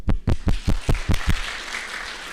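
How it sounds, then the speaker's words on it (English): Claps at a hackathon summary session, a handful of sharp, evenly spaced hand claps close by, then a faint room wash as they fade out. "Another applause for Julia, please"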